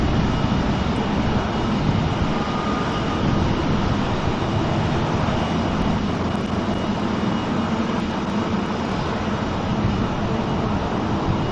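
A Malaysian Airlines airliner moves at Sydney Airport, its engines giving a steady, broad roar that holds without a break, loud and fairly close, with no voices.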